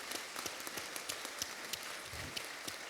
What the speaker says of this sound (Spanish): Vamos a darnos un aplauso todos hoy aquí.